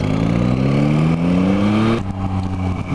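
Yamaha MT-09 motorcycle engine pulling hard under acceleration, a loud, close, rising roar that climbs steadily in pitch, then drops sharply as the next gear catches and keeps pulling.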